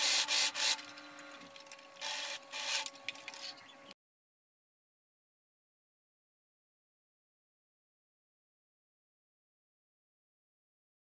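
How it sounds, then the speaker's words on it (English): A sewing machine stitching bias tape onto a sleeveless gathered tiered dress, with about four seconds of close mechanical whirring in short runs, then silence. "I pin the bias tape and I sew respecting half a centimeter of seam allowance."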